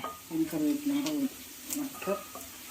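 Fish frying in a pan with curry leaves sizzles and crackles, with a few stirring scrapes, close by, while a person talks over the cooking.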